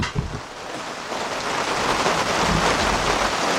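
Steady rain falls outdoors beside a 2006 Kia Sportage EX with a 2.7 engine under head gasket repair, giving a continuous broadband patter with no speech.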